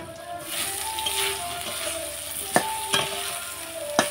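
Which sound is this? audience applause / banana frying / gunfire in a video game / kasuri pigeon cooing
banana frying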